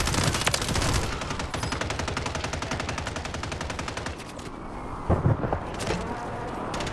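Rapid automatic gunfire from Call of Duty, loud and dense bursts rattling almost without pause, easing slightly toward the end with a few sharper cracks.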